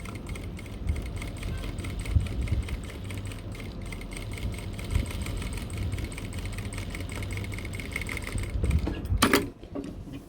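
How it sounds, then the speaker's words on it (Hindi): A sewing machine stitches stretchy cargo-pant fabric as it is pushed forward under the needle: a close, steady mechanical whir with rapid needle chatter running throughout, swelling into a louder burst just before the end. "इधर इसको आगे की तरफ धकेल के सिलाई लगानी पड़ रही है"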